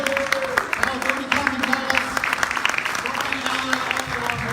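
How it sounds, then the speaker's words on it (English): Crowd applause at a political rally, scattered clapping with voices talking over it throughout. "Give a big round of applause to Helen."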